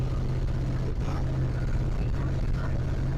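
A 1975 Dodge W200 pickup truck with a leaky exhaust drones continuously in a rough, low engine rumble, with a throaty, uneven exhaust rattle and no pauses.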